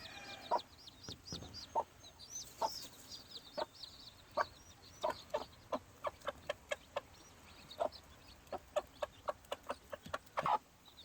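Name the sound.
young gamefowl chicks chirping and pecking with mother hen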